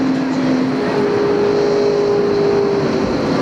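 A 1997 NASCAR Busch Grand National race car at Indianapolis Raceway Park, heard onboard along the back straightaway, engine droning steadily and loudly at high revs with a sustained tone, no talk.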